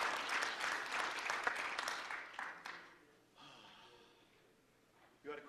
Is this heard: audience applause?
yes